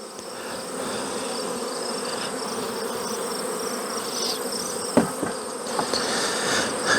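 A dense, steady hum of honey bees as a colony is shaken out of its hive, loud and continuous throughout, with a few soft knocks toward the end.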